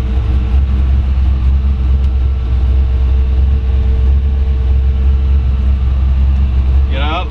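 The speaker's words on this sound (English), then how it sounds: "Rev it up here for you." A 1933 Ford Factory Five hot rod coupe with a 302 V8 and automatic transmission idles close by with a loud, steady, deep rumble that holds throughout.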